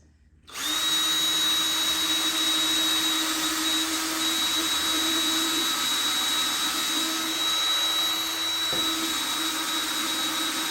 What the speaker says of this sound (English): So I would drill a starter hole.